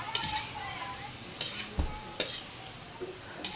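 Bitter gourd seasoned with Aji-Ginisa is stirred in a frying pan, a utensil scraping and knocking in spaced strokes over a soft, low sizzle.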